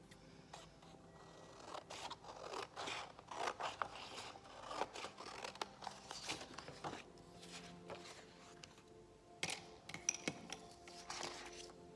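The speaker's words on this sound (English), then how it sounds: "I like to cut it into a square," Scissors cutting a sheet of white card into a square for a children's craft, a series of close, crisp snips and paper scrapes in irregular bursts, quiet with no talking.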